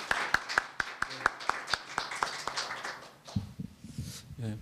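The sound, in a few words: applause for a speaker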